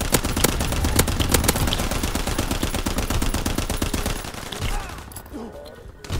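Rapid, dense rifle gunfire from a Call of Duty WW2 match rattles loudly and almost without pause, then thins out near the end to a few scattered sounds.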